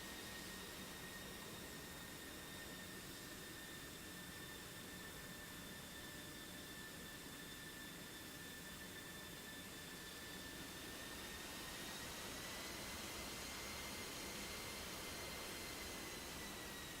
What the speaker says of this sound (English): here's the F-16 taxiing out on the G66 side